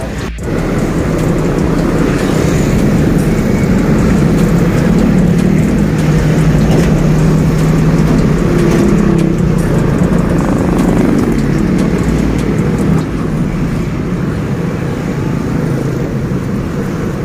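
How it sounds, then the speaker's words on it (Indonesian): Dense city traffic in a jam rumbles continuously, a loud, steady wash of idling and slowly moving engines with a low drone throughout and no talking. "Aduh, macet kali Jang,"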